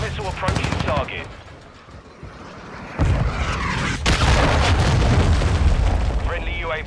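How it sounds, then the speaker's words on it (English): A cruise missile explodes in a video game, a heavy boom with rumbling gunfire around it, loud and close, with a voice speaking at the start. "Friendly cruise missile approaching target."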